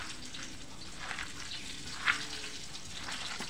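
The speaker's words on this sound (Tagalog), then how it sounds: "Kung naririnig na po guys, tumitilamsik ang mantika." Cooking oil sizzles and crackles steadily in a pan while frying radish, with one sharp splattering pop standing out midway.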